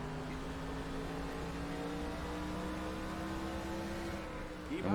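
A NASCAR stock car in NASCAR Racing 2003 at the 2005 Tyson Holly Farms 400 drones at high revs, a steady, loud engine tone held throughout, with a brief rising whine at the very end.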